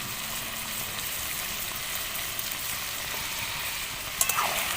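Mutton kosha sizzling in a pan with chopped coriander and meat masala, a steady close frying hiss with a few scraping stir sounds near the end, no voices.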